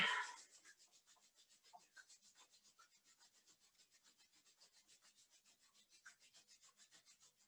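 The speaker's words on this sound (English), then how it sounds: "Bring the hands together at the heart center and let's just rub them together, creating heat and friction here." Two hands rubbing briskly together during a yoga session, a fast regular run of dry swishing strokes, close and quiet, continuing steadily after a brief louder start.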